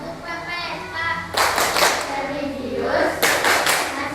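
A school class claps out the Tepuk PPK routine in sharp rhythmic bursts of hand claps, loud and close, with children's voices and an adult speaking around the clapping.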